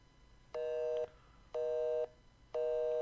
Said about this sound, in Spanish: ¿Vos viste cómo da ocupado el teléfono?